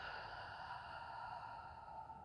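A slow, soft exhale during a gentle stretching exercise on a mat, a faint airy sigh-like breath that stays steady for a couple of seconds, heard close up and alone.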